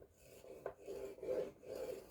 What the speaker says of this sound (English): we're just going to score from the top of the paper down to that score mark